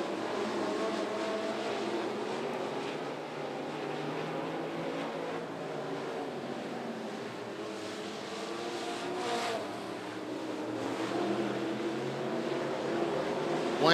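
Mod Street and Sportsman dirt track race cars roar around Volunteer Speedway, their engines droning continuously at mid distance with rising and falling revs as they pass, and no talk.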